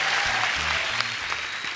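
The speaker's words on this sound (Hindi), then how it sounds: "जोरदार तालियां।" A studio audience at a comedy talk show claps loudly in a brief, dense burst of applause that carries on evenly throughout.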